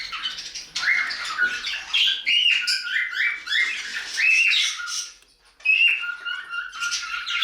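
Budgerigar chicks and their parent in a bird room, with dense, overlapping squawks and high chirps that continue almost without pause and sound close and lively, broken only by a brief quiet gap.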